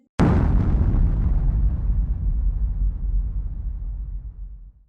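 A blast captured on CCTV in Islamabad during an earthquake: one sudden loud boom that rolls into a long, deep rumbling decay lasting several seconds, with no voices.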